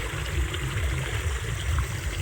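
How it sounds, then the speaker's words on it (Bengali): Fast-flowing water runs through a channel after its speed is increased, giving a continuous low gurgling rush, moderately close and steady with no talking. "জলের স্পিডটা বাড়িয়ে দিল"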